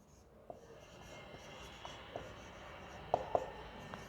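A pen writes Bengali words by hand, giving faint scratchy strokes and a few sharper taps over a quiet room background, with no one speaking.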